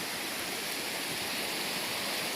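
Small back country creek flowing steadily, a continuous broadband rush of water close by, with no voices.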